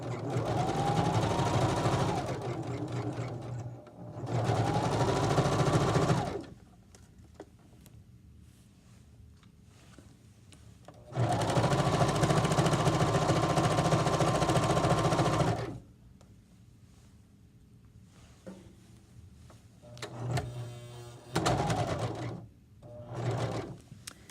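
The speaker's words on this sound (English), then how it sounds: "Sometimes these machines make funny noises and you think something went wrong." A sewing machine stitches a pillowcase in several separate bursts of close, rapid whirring, one long run in the middle and shorter runs around it, with quiet handling noises in the gaps.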